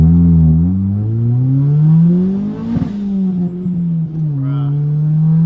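A 1995 Honda Del Sol with a big turbo accelerating hard through the gears, its engine note climbing steadily and dropping at rough shifts, loud and close from inside the car, with some voices talking under it.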